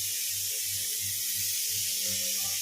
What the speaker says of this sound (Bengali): এই যেটি শব্দ শুনছেন প্রেশার কুকারের